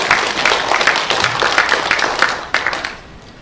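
An audience at an academic forum claps steadily and fairly loudly as a speaker is welcomed, with many overlapping hand claps in a dense patter that thins out near the end.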